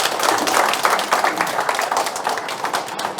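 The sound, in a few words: audience applause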